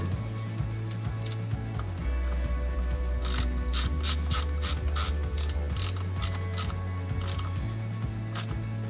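A ratchet tightens a nut on a Yamaha HPDI outboard tilt-trim unit, with rapid repeated close clicking strokes in bursts over a steady mechanical hum.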